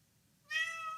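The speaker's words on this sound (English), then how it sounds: "Meow." A pet cat named Rosie gives a single clear meow, close and fairly loud, rising out of near silence halfway through and holding briefly before fading.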